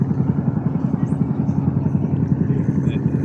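A launch boat engine running as the boat gets ready to depart on a haor wetland, a loud low rhythmic chugging that stays steady throughout, with people talking nearby.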